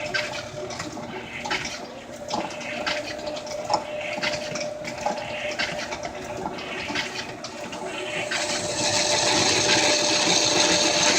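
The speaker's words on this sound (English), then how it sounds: "we're facing off a slug here to get welded into the pulley" A metal lathe in a shop facing off a steel slug that will be welded into a pulley, giving a steady continuous machining whir and hiss that grows slightly louder and brighter toward the end, close and without talk.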